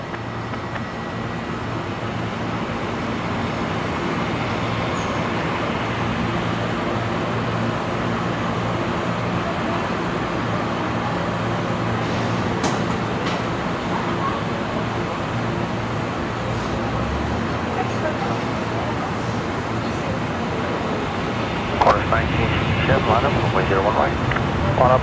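A Singapore Airlines jet landing at Brisbane Airport at night, a steady distant roar of engines and rushing air that swells slightly near the end, with people talking over it.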